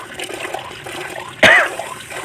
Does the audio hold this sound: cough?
yes